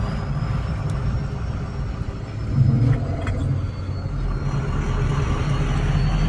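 A big truck rolls slowly in gear with the clutch out and no throttle, a steady low engine rumble with some rattling, swelling briefly partway through, close and continuous.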